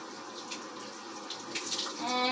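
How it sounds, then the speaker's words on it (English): Shower water hissing steadily nearby, then shifting and sputtering as the tap is turned, with a short squeak at the very end. "then you're going to turn off the shower"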